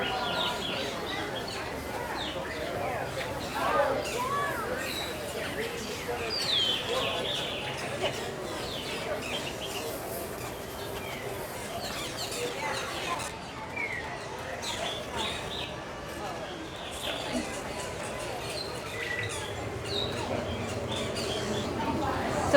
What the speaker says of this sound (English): And there's birds all around us. And there's so many different species.